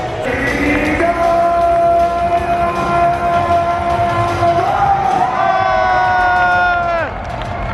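Arena fans cheer and shout as a halftime hoverboard dunk on stilts plays out, a steady loud crowd roar mixed with long harmonic tones that swell and bend, ending abruptly.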